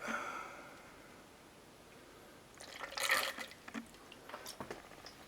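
Liquid chemicals are poured into a Durst RCP50 photo processor, soft splashing and trickling bursts with a few drips after a quiet start, faint and close.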